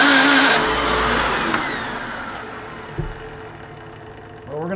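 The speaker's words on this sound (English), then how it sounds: "I really dislike when self-propelled vacuums act up, because they do things like this" A faulty Hoover WindTunnel self-propelled upright vacuum with a bad transmission grinds and whines loudly up close, starting harsh and fading to a rough drone, with a knock partway through.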